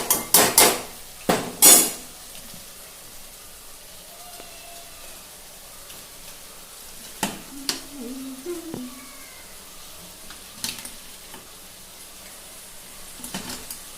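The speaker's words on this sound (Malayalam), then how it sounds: "ഇതിലേക്ക് നമുക്ക് ചിക്കൻ ചേർത്ത് കൊടുക്കാം." Pieces of chicken tipped into a pot of fried masala for a Kerala chicken curry, with sharp metallic clanks of utensil on pot, scraping stirs and a faint sizzle underneath, quiet between the knocks.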